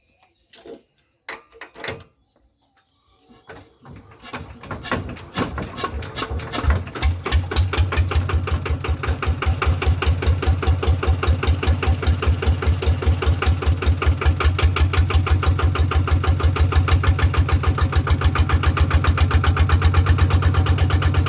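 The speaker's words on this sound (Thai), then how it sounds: "เดี๋ยวติดเครื่องเลยว่ามันจะ ชาร์จได้ไหม" A walk-behind tractor engine is pulled into life after a few false starts, then settles into a loud, steady, rapid chugging idle that carries on to the end, close to the microphone.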